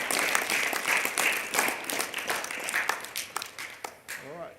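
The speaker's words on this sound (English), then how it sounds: "So I'd like you all to put your hands together and give them a round of applause." Applause from a crowd at a junior rugby club prize giving, honouring the coaches and managers, a dense steady clapping that carries on for several seconds before thinning out at the end.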